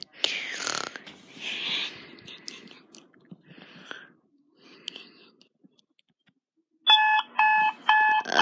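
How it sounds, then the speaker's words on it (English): A toy alarm clock rings near the end in a few loud, evenly spaced electronic bursts, coming after quiet whispered voices and soft noises in a room at night. "It's the alarm clock."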